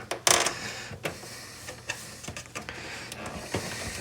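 Plastic snap clips on the bottom of an Apple IIgs case pop open, a sharp loud click early on followed by a few fainter ticks and snaps, close by with no talking.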